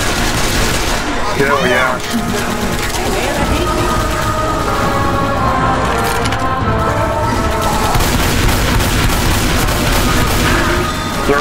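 A machine gun nest in the co-op zombie shooter Left 4 Dead 2 fires in a loud, dense, continuous stream of rapid gunfire mixed with booms and crashes, with voices calling out over the din.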